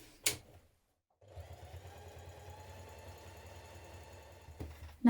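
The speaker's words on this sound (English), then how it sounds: "on these 2 outside ones, which are 2 inches away from the centre, you're going to top stitch 1/8 of an inch down" Sewing machine running a steady top stitch 1/8 inch from the edge of backpack fabric, a continuous close mechanical whir lasting several seconds after a brief clatter and pause, ending with a small knock.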